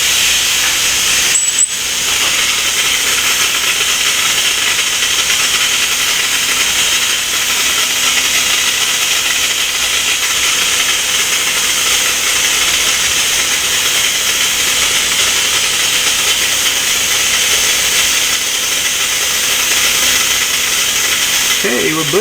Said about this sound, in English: Now we can put the vacuum feed on there, or the vacuum bleeder